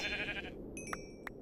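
Short, high, wavering bleats from a sheep in Minecraft, two or three quick calls within a second and a half against a soft background hum.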